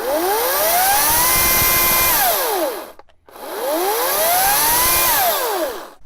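Two bursts from a Ryobi chainsaw running with a newly replaced, lubricated chain: each one revs up, holds a high whine, then winds down. There is a short silent gap between them and the saw is loud and close.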